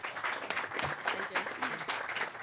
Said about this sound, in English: Let's give another round of applause to our great governor here.